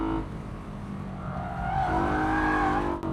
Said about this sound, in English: Hey, let's drop it into third here, hop.